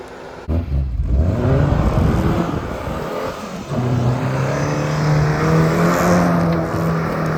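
A Tofaş Şahin or Doğan car drives on a dusty track, its engine note rising and holding steady with rough gravelly noise beneath, loud and close throughout.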